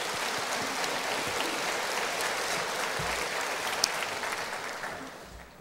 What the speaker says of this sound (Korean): 축하의 박수 주시기 바랍니다